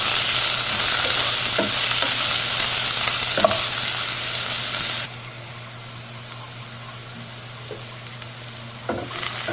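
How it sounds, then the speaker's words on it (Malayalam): Onions sautéing in hot oil in a pan, a steady close sizzle with occasional stirring clicks; the sizzle drops noticeably quieter halfway through, continuing without talk. "ഇത് നന്നായിട്ട് നമുക്ക് വഴറ്റിയെടുക്കാം"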